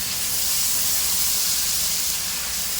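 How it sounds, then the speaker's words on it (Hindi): Ginger, garlic and green chili paste hits browned fried onions in a pot for chicken yakhni pulao, giving a loud, steady, continuous sizzle and hiss with no talking. "अब इसमें हम डाल देंगे जो आपको बताए, अदरक लहसुन और ग्रीन चिली पेस्ट"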